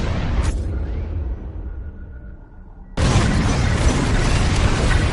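Bombs explode in the Star Wars Squadrons space combat game, a loud close blast fading into a dull rumble, then a second sustained roaring burst of explosion noise.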